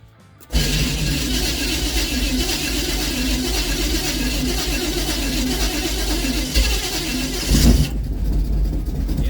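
A carbureted car engine cranks and catches after two throttle pumps with the choke pulled, then settles into a loud, steady, slightly rough idle close to the microphone.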